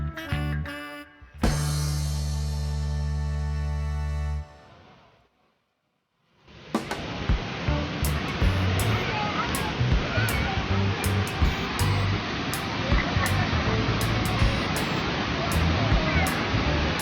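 A waterfall roars as a dense, continuous wash of rushing water after a brief quiet moment, loud and steady to the end with faint sharp ticks scattered on top.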